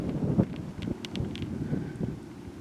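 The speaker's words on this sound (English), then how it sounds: "It's a little windy here" Wind rumbles across the open barrens, a low, steady buffeting against the microphone with a few soft gusts and rustles.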